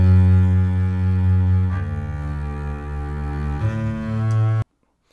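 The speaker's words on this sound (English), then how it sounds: "the legato basses are playing in octaves here" LA Scoring Strings legato basses sustain in octaves, a deep bowed string tone holding steady chords that change twice, then cut off abruptly near the end, loud and without voices.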